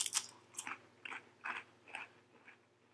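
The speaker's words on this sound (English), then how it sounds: "Very crispy. Not stale at all." Salty crackers from an Individual Meal Pack military ration are bitten and chewed close up, giving about eight crisp crunches in an uneven rhythm, quiet and with no talking.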